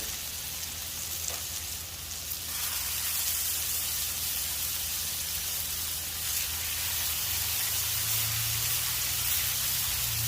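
Burger patties in butter on a flat-top cast iron griddle give a steady, loud, broadband sizzle that holds continuously throughout, swelling slightly as the patties go down.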